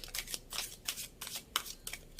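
Large tarot cards shuffling by hand, a run of soft papery riffles and slaps in an irregular rhythm, close up and fairly quiet with no talk.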